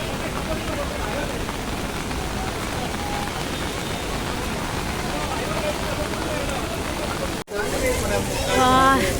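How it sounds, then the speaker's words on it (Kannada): Steady, dense rain patters down without a break at Jog Falls, with a crowd murmuring faintly beneath it; near the end it briefly cuts out, then resumes. "ಮಳೆ ಇಲ್ಲಿ ಜೋಗ ನೋಡೋಕೆ ಬಂದ್ವಿ ಫುಲ್ಲು ಮಳೆ"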